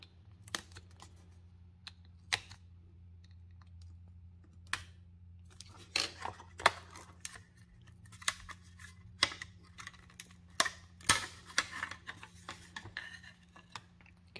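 Laser-cut parts being broken out of a flat sheet give sparse, sharp snaps and clicks, some single and some in quick clusters, against a quiet low hum.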